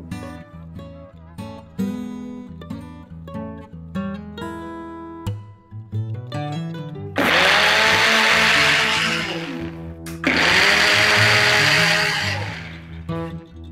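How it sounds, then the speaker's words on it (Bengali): A lidded blender whirring coffee with warm water: two loud bursts of a harsh motor roar, the second after a brief pause, over background music. "এবারে ঢাকনাটা বন্ধ করে আমরা এটাকে ব্লেন্ড করে নেব"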